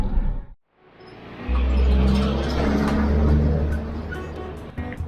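A car on a Greek island road rises from a quiet moment into a loud, close engine rumble that swells and holds as it drives past.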